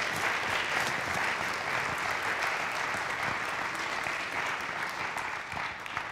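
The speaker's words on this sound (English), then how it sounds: "Can we have a round of applause for all these volunteers," An audience at a university stage show applauds volunteers with steady, dense clapping that holds loud and even throughout, with no voices rising above it.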